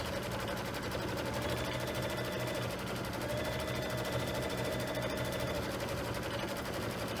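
A sewing machine quilting a pillow block, a steady, rapid mechanical chatter of needle strokes running without pause, even and moderately close.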